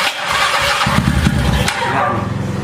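A motorcycle engine cranks and fires up by push-button starter, a short loud burst of turning over that settles into a rough idle, close to the microphone.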